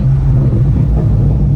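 BMW M5 G90 engine, loud and close, a deep steady rumble holding at a constant pitch with no clear revving.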